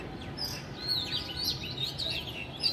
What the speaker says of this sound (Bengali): পাখির ডাক শুনতে পাচ্ছেন